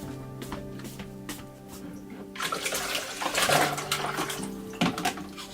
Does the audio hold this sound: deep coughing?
no